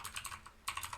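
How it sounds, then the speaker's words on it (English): Rapid, loud keyboard typing with clattering keystrokes in bursts, a brief pause midway, then a fresh flurry of keys close by. "apologies for my keyboard, it is loud AF"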